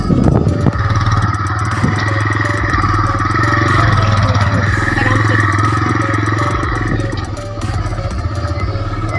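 A motorcycle engine drones steadily and loud at close range as the bike is ridden slowly off-road on a rainy outing, with occasional clatter and a brief rough burst near the start.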